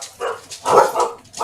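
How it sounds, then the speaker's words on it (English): Several sharp, loud barks from a dog close by, coming in quick irregular bursts with a slightly whiny edge, no voices over them. "Somebody's dog was upset."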